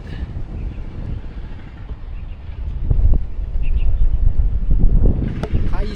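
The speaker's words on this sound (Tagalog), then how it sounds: "Ang lakas ng hangin dito." Strong wind buffets the microphone near the highest peak of the Alto de Coloane trail in Macau, a steady low rumble that swells louder midway, with no clear voices.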